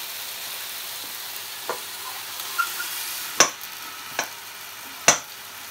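Marinated pork ham steak frying on a plancha with a steady soft sizzle, broken by a few sharp crackling pops and spatters spaced through the clip.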